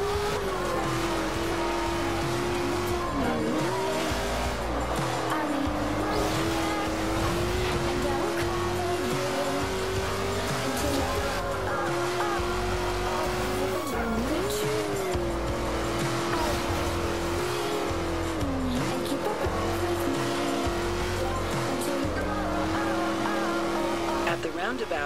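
Ford GT racing around corners in Forza Horizon 2, a loud sustained engine drone whose pitch dips and rises through gear changes and cornering, with tire noise and someone talking over it throughout.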